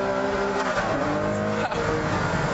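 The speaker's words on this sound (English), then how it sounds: "you get that lovely V12 engine behind you, the blip of the down change that comes automatically, and a huge surge" Ferrari Enzo's V12 engine on a race track, a steady dense mechanical drone with a brief dip where a downshift blip cuts in, heard from inside the car at moderate level.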